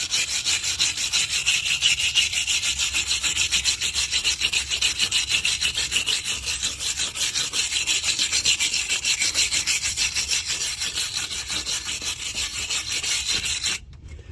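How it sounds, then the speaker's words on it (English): Wire brush scrubbing built-up rust off the front wheel bearing assembly of a 2006 Lincoln Navigator, a continuous rapid back-and-forth rasping that stays loud and close for about fourteen seconds, with no talk. "See, I'm just gonna wire brush it."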